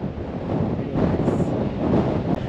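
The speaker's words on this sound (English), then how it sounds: "Okay, the wind is picking up." Strong wind gusts buffet the microphone outdoors, a continuous loud rumbling roar with surging peaks and no voices.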